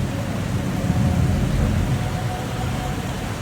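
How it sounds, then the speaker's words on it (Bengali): Heavy rain falling outside, a steady dense wash of noise with a low rumbling undertone, constant and fairly loud throughout with no voices. "বাইরে বৃষ্টিটা আজকে হ্যাঁ কঠিন।"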